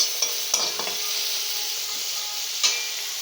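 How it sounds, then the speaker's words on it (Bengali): Salted pumpkin frying in a pan, a constant soft sizzle punctuated by a few sharp spatula scrapes and knocks, close and fairly quiet. "নেড়ে চেড়ে ভেজে নিলাম"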